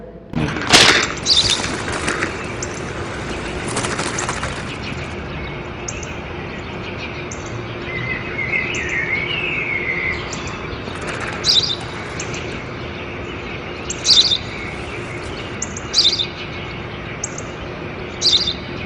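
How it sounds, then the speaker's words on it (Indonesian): A house sparrow chirps in short, bright bursts at intervals of a second or two, clear over a steady, noisy outdoor background. "Sudah ku bilang itu burung gereja, Pak."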